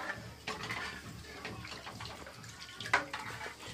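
Water is poured into a cooking pot while a Pahadi dish is being made, a soft, uneven splashing and trickling close by with a few clinks of the pot.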